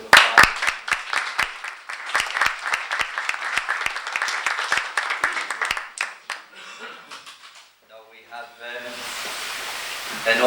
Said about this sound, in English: So I think they need to deserve a round of applause.